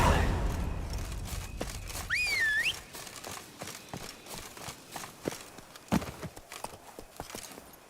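Horse hooves clip-clopping at a walk in Witcher 3, a steady close rhythm of hoof strikes, with a brief whistle-like tone early on.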